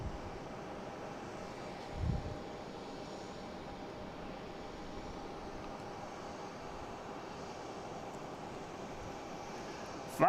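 A JetBlue Airbus A220 on flight 1782 from Destin–Fort Walton Beach arrives at Boston Logan, its engines making a steady, distant roar mixed with wind noise.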